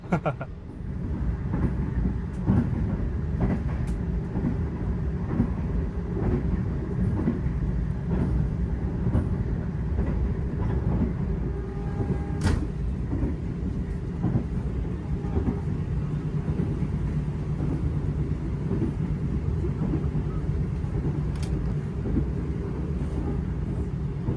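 Argo Bromo Anggrek passenger train rolls past beside a beach, a long steady rumble of wheels and wagons with occasional clanks and sharp squeals, loud and continuous throughout.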